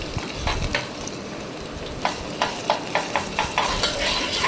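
Ginger garlic paste being stirred in a hot pan, a soft sizzle with a series of sharp, regular spatula scrapes that grow steadier toward the end, close and alone.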